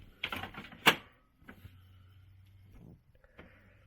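Epson EW-M630TW inkjet printer whirring through its setup cycle, with a brief clatter and sharp click near the start, then a low steady motor hum followed by a short mechanical rise and fall, close by.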